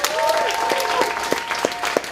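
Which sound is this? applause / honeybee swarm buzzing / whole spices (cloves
applause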